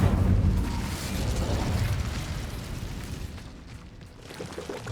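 Fiery blast of an Incendio spell cast in the video game Hogwarts Legacy: a loud, rumbling burst that rolls on as a dense roar, thins out near the end, then swells again briefly.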